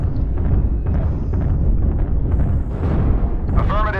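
LRM missile volleys fire and burst in a mech combat game, a dense continuous rumble of launches and explosions with scattered pops, loud and close throughout.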